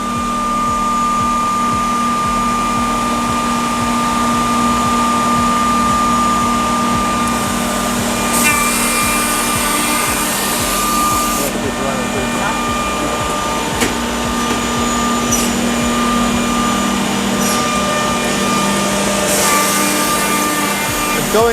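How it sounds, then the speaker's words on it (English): A dust extraction vacuum roars steadily and loudly for the whole stretch while a saw cuts cabinet panels in a dental cabinet workshop, with brighter whining bursts from the cutting rising over the constant suction noise. No one speaks. "It's got the vacuum running to do all the suction off of it."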